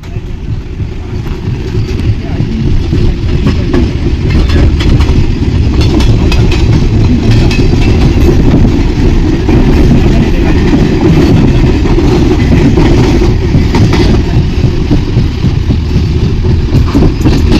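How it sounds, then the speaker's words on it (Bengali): A passenger train pulls away and runs along the rails: a loud, steady low rumble swells over the first seconds, then holds as a continuous close rolling drone with faint rhythmic rattle from the wheels. "ট্রেনটা ছেড়ে দিল আমাদের"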